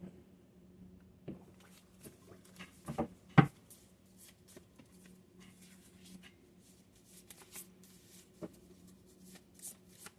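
Tarot cards shuffled by hand close up, soft riffling and flicking in scattered bursts, with a couple of sharper slaps and taps over a faint low hum, quiet and with no speech.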